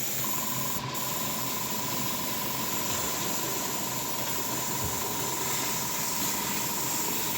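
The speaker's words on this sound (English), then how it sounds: "you get an airbrush or a straw and you just blow." Air blown through an airbrush or straw over a model railway river surface, a steady broad hiss that runs unbroken and fairly loud from start to finish with a faint constant tone underneath.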